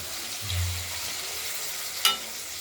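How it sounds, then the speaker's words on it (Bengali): Tomato pieces frying with stone-ground spice paste give a steady, soft sizzle, ending with one sharp clink of a utensil. "টমেটো টুকরো দুটো দিয়ে সেটাকেও ভাজা করে একদম মিশিয়ে দিতে হবে।"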